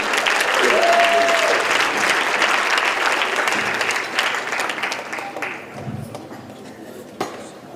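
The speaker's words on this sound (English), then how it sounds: "So round of applause for the new bride and groom." Wedding reception guests applaud the bride and groom, a dense, close round of clapping that starts strong and gradually thins out, with a few faint clinks of dishes and cutlery.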